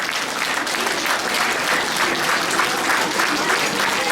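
Continuous, even applause from a church congregation at a 25th anniversary gathering in Kathmandu, a thick wash of many hands clapping throughout.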